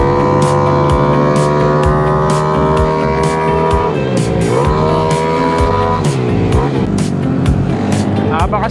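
A Honda Click 185 scooter engine revs hard on a ride near Tagaytay, loud and close throughout, its pitch climbing and dropping through several rev sweeps with rapid throttle changes.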